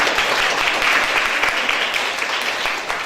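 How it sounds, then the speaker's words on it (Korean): An audience claps after a team's Java project presentation at a coding bootcamp, a dense, continuous wash of applause from many hands that carries on steadily without any talk. "고생한 팀에 서 박수 한번 더크게좀 쳐주세요"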